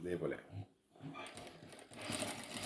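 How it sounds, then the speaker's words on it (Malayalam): A sewing machine stitches along the edge of a sari blouse in short mechanical runs with a brief pause, heard faintly under someone talking. "എന്നിട്ട് ഇതിൻ്റെ ഓരത്ത് കൂടി നമ്മൾ സ്റ്റിച്ച് കൊടുക്കണം"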